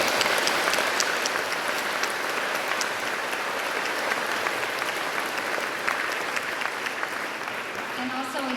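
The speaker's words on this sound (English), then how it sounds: "I want to give them a round of applause." A high school assembly crowd at Cathedral Catholic's Every 15 Minutes program applauds the participating students, a thick, continuous wash of clapping that holds steady for several seconds with some voices mixed in.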